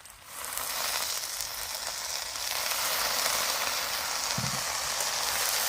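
Water poured into a pan of frying golda chingri prawns with turmeric, chili and salt, bursting into a loud, sustained hiss and sizzle that rises sharply at the start and holds steady, with a brief low clunk near the end.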